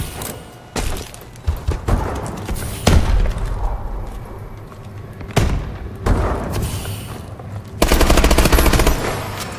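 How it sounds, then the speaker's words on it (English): Machine gun fire in the video game Call of Duty: Advanced Warfare during team deathmatch, with loud sustained bursts and booming impacts separated by brief lulls, heard without talk. "We get the first machine gun kill."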